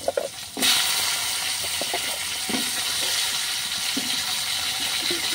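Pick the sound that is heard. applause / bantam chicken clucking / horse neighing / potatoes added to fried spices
potatoes added to fried spices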